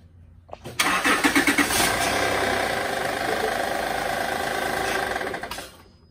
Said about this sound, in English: we're going to start the car and flush the system right now